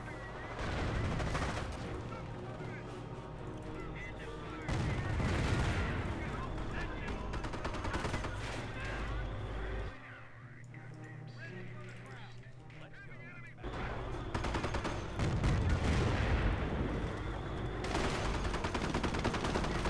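Thompson submachine guns fire in the Company of Heroes Normandy campaign at Cherbourg, dense rattling bursts mixed with battle noise running continuously for the whole stretch, with a brief lull midway before the gunfire swells again.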